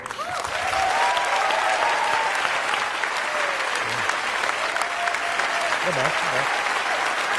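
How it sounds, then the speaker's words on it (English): Large audience applause closing a TED talk, loud and continuous throughout, with a few brief voices and calls mixed into the clapping. "Big applause."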